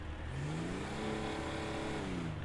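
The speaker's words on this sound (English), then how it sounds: "you want an SUV with a V8 or a crazy sounding, you know, engine or exhaust note?" A V8 SUV engine in Grand Theft Auto 5 revs up, its pitch rising steadily and then easing back in one continuous, moderately loud sweep.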